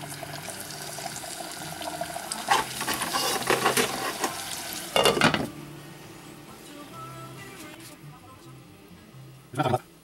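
Egg rolls deep frying in hot oil give a steady sizzle and crackle, with sharper bursts of bubbling at a few points as pieces go in, while a person talks over it.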